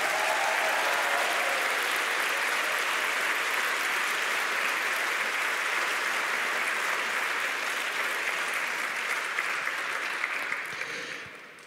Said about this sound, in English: you can give them a round of applause again.